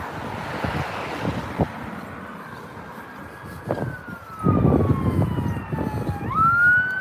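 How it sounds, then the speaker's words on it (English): An ambulance siren wails along a road near Walcott beach on the north Norfolk coast, a steady tone that grows nearer and louder and then shifts pitch as it passes, with wind and surf rumbling underneath. "No, it's an ambulance."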